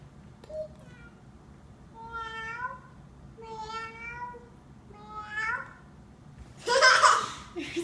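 A young child imitates a cat, giving three drawn-out rising meows at a steady pace, then breaks into a loud burst of giggling at the end.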